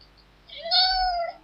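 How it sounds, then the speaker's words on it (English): A cat lets out a single drawn-out meow that rises and then falls, clear and close in a quiet room. "That's a cat telling you a film he's never seen"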